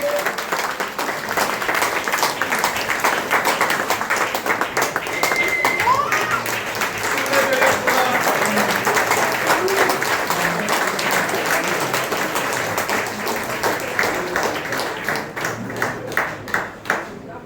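At a retirement ceremony at Northern Railway headquarters in New Delhi, a room of colleagues keeps up sustained, dense applause that thins toward the end into a few scattered, distinct claps, with voices faintly underneath.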